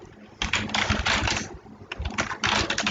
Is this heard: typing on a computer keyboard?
yes